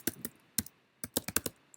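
Typing a command on a computer keyboard into a MongoDB shell, a quick irregular run of crisp, close key clicks in two short bursts, no talking.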